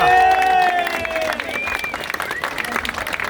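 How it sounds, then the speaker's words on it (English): Applause from a crowd at an anniversary celebration in a historic tavern, rising under loud cheering voices and whoops that dominate the opening before the clapping carries on as a dense wash. "please give a round of applause to the Neirs 190 committee"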